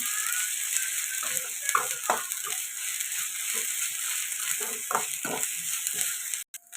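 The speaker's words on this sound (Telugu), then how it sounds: "ఇది కూడా పచ్చివాసన పోయేదాకా ఫ్రై చేసుకోవాలి" Ginger garlic paste fries in a pan for a chicken gravy curry, a steady bright sizzle up close with scattered scraping and stirring clicks throughout.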